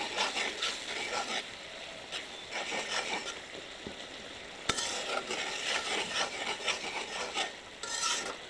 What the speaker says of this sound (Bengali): এখানে মশলাগুলো ভালো করে ভুনে নেব